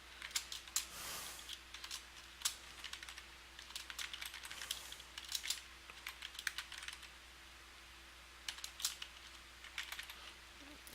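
Rapid, uneven clicks of typing on a computer keyboard, fairly close and steady with brief pauses, under a faint constant hum and no talking.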